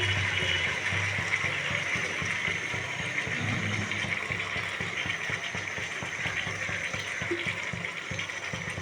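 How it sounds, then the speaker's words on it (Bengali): Leftover rinse water poured into a pan of rohu fish curry with potato, a steady continuous splashing and trickling wash that runs evenly throughout. "একটু সামান্য একটু ওই বাকি ধোয়া জলটা পাশে দিয়ে দিচ্ছি"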